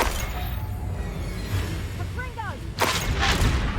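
Reducto spell blast in the video game Hogwarts Legacy, a sharp booming crash with shattering debris near the end, following a quieter stretch of rumble and whooshing effects.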